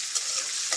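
Onions hit a hot frying pan after dried chillies and sizzle loudly and evenly, with a faint scrape of stirring.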